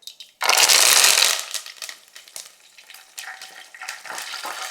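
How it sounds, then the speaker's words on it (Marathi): Curry leaves hit hot oil with crackling mustard seeds in a tempering for spicy brinjal pulao, a loud burst of spitting sizzle that fades into lighter intermittent crackles and pops. "मोहरी अशी तडतडली की आता आपल्याला ह्यात टाकायचा आहे कढीपत्ता."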